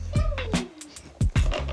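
A distressed meow from Sami the cat in an apartment, a drawn-out wavering cry followed by shorter meows, close and fairly loud, with a person's voice murmuring softly alongside.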